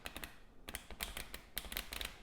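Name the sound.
riffle shuffling playing cards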